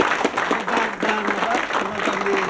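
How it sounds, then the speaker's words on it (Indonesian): A television studio audience claps in a steady, dense wash of applause while a voice carries on over it. "Oke, tepuk tangan para"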